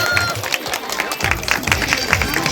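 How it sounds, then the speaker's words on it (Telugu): A family get-together crowd claps together for Prabhakar, a dense, steady patter of many hands that lasts throughout, with murmuring voices underneath. "మన ప్రభాకర్ అన్నకు ఒక్కసారి అందరూ చప్పట్లు కొట్టాలి."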